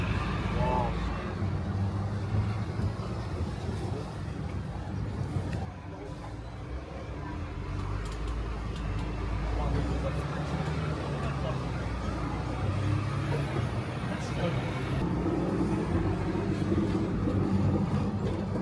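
Hong Kong tram ride heard from inside the car, a continuous low rumble of wheels and motor with faint rattles and street traffic outside, while passengers talk quietly throughout.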